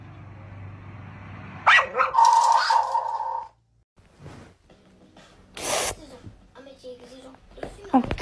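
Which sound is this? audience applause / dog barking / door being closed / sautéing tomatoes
dog barking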